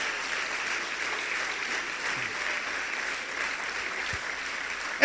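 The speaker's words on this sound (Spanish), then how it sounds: "Denle un aplauso al Señor." A congregation applauds during a church service, a steady wash of clapping at moderate level throughout with no speech.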